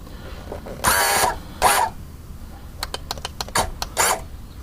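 Power trim on a Triton boat's outboard motor being adjusted: two loud whirring electric motor bursts, then a string of short sharp whirs and clicks, close and mechanical.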